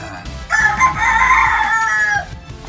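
A young Sweater Escolin line stag rooster, about six months old, crows once, loud and close, a drawn-out strained call lasting over a second amid faint farmyard background.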